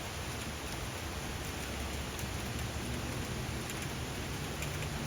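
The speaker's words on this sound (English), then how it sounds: "I wonder if it's hard for them to fly in the rain." Steady rain falls outdoors, a dense continuous hiss of drops on surfaces with no pauses, moderately loud and even throughout.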